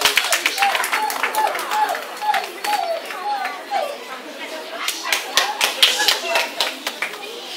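An audience at a schnauzer and pinscher dog show claps in rhythmic, uneven bursts, hands loud and close, with voices and children chattering underneath.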